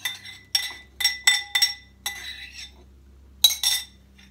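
Proofed yeast poured into a mixing bowl with a flour mixture, eggs and butter for keto bread, heard as a series of close, bright clinks and taps of utensils against a glass bowl in irregular bursts, no talking.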